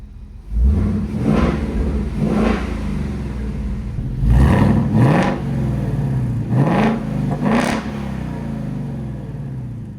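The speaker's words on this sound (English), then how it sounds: "For this thing being on its lid, I am thoroughly impressed with our first startup." A wrecked Roush Mustang with active exhaust, damaged after ending up on its roof, starts up and revs. Several loud, sharp rev bursts rise and fall over a rumbling idle, with no talking.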